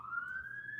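Ambulance siren sounding alone as a steady, loud rising wail, with a faint low hum underneath and no talk over it.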